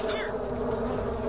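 Flies buzz steadily and close up in Clive Barker's Jericho, a dense insect drone that holds at the same level throughout with no talk over it.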